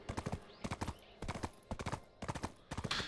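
A horse gallops in the video game Black Desert Online, its hooves beating in quick, rhythmic clusters of clip-clops that repeat steadily and stay fairly quiet throughout.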